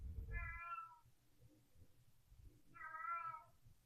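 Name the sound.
cat meowing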